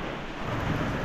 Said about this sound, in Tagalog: Naulan na utol.